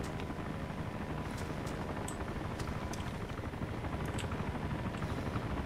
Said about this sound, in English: There's that chopper. Way up there